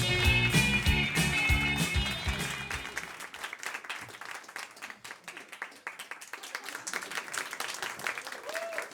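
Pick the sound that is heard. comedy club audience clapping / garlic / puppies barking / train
comedy club audience clapping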